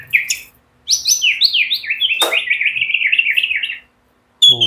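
A tame white-rumped shama, a hand-tame murai batu, sings loud, close, rapid chirping phrases of whistles and trills that run for about three seconds, with short clipped calls before and after.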